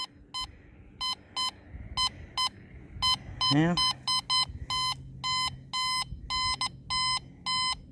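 A Teknetics Delta 4000 metal detector at a lakefront home site sounds a steady, loud tone in repeated short pulses, with a brief voice speaking over it partway through.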